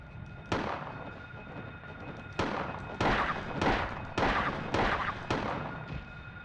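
Gunfire in the Silent Hill video game: about seven sharp, loud shots at uneven intervals over a steady tonal background hum.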